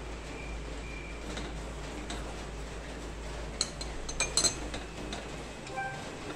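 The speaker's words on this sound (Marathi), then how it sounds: "आता आपण जे तीळ घेतले होते अर्धी वाटी, ते तीळ भाजतोय।" Half a bowl of sesame seeds dry-roasting in a pan for Kolhapuri bhadang masala, a soft steady crackle with a few light metallic clinks of a spatula partway through.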